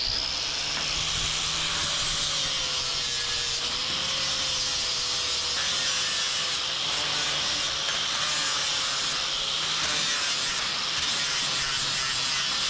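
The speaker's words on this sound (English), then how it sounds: "We're going to take off all the mill scale and rust, so we have nice clean metal" Tiger Paw abrasive disc on a grinder scouring mill scale and rust off angle iron flat stock, a steady bright hissing grind that holds continuously at close range with a faint motor whine beneath.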